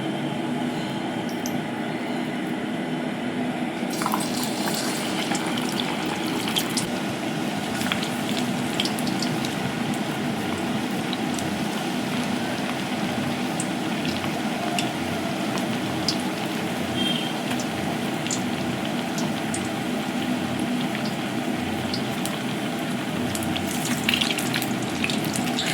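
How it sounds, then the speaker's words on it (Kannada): Maddur vada frying in hot oil, a constant dense crackling sizzle with occasional sharper pops, steady and close for the whole stretch, with no talk over it. "ನೀವು ಎಣ್ಣೆ ಕಾದಿದೆ, ಅದನ್ನು ಈ ರೀತಿ ಎತ್ಕೊಂಡು ಹಾಕೋಣ."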